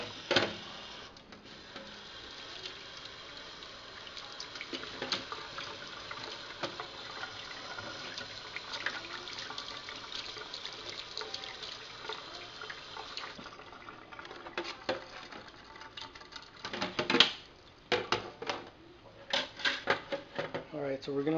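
Dusty plastic parts from a PS3 console are washed under running water, a steady splashing hiss with clattering handling of the pieces and louder knocks near the end.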